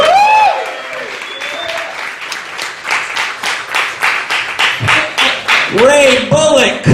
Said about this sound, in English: How about a nice round of applause for the roasters coming to the stage?